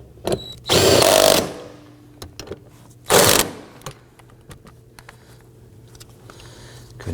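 Bolts on a 2015-2024 Nissan Murano 3.5L V6 fuel transfer unit being tightened with a power tool: two loud whirring bursts of about half a second each, close up, followed by faint clicks and rattles.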